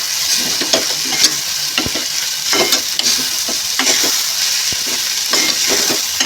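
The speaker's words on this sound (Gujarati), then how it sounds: "આ રીતે આપણે બરાબર મિક્સ કરવાનું છે" Sago khichdi with powdered sugar being stirred in a pan on the stove, with steady sizzling throughout and repeated scraping strokes of the spoon against the pan at an irregular rhythm.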